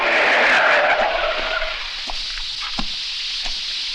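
A car skids to a halt with a loud screeching tire squeal that fades after about a second and a half, leaving light rustle and a couple of soft thumps.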